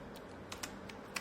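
A few light, scattered keystrokes on a keyboard, quiet and close over a faint steady hum, with no talking.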